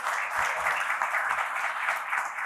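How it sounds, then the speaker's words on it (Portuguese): Applause at a municipal working-group meeting, a steady, full round of clapping from the attendees that sustains evenly throughout without speech. "E agora eu peço uma salva de palmas para todas as secretarias."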